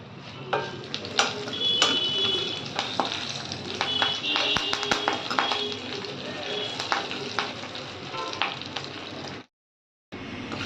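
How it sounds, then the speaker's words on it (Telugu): Curry leaves and tempering spices frying in hot oil for a mint-coconut chutney, giving a continuous close sizzle with scattered stirring taps against the pan before a brief cut to silence. "తాలింపు వేగిపోయింది."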